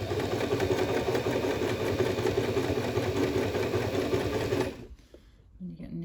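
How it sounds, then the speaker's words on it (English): A sewing machine stitches a seam on a fabric face mask, running in a loud, steady, close mechanical whir for nearly five seconds before stopping abruptly into near quiet. "So pop your foot down, needle in, and then just take it gently."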